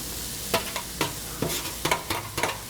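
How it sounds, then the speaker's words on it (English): Vegetables and tofu being stir-fried in a pan: loud bursts of sizzle and scraping come in quick irregular strokes over a continuous frying hiss, close and without talk. "this is where kind of the stir-fry action's coming in"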